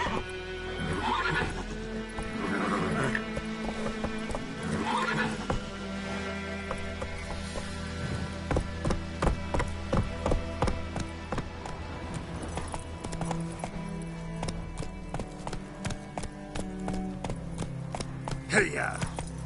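A horse in The Witcher III whinnies several times over game music, then breaks into quick, rhythmic galloping hoofbeats that grow louder toward the end.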